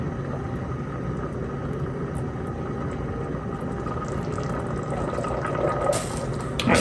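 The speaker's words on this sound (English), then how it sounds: "we've got a little boil coming" A sugar mixture comes to a boil in a pot on the stove, giving a dense, steady bubbling hiss that stays even throughout, close and fairly loud.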